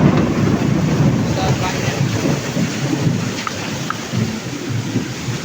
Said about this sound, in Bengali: শহরে অনেক বৃষ্টি হচ্ছে আজকে, এত বৃষ্টি হচ্ছে রাস্তাঘাটে অনেক পানি বেজে গেছে